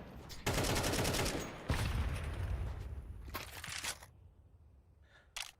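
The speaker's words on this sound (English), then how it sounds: "Like somebody's blasting an A4." Rifle fire in a Counter-Strike match, a long sustained automatic burst followed by further shorter bursts and scattered shots, loud at first then fading to quieter distant firing.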